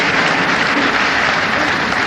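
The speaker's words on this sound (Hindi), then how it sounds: "ताली बजाओ।" A studio audience at a PTV comedy show breaks into loud, continuous applause, a dense wash of clapping that stays steady and close for the whole moment.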